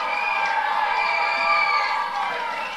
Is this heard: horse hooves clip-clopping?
no